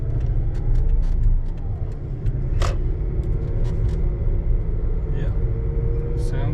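Steady low engine and road rumble from inside a 2014 Scion xB running on new coil packs and spark plugs, cruising on an in-town drive with a few faint clicks over the drone.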